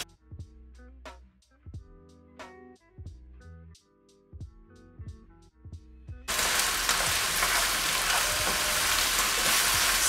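Chopped tomatoes and chopped pepper hit a hot pan of browning food for Hortobágyi palacsinta, bursting into a loud, steady sizzle and crackle after a few quieter clinks and taps, with no talking.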